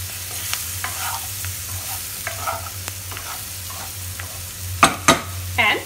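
Beans and potatoes fry with a steady low sizzle while a utensil stirs the pan, scraping and clanking a few times near the end.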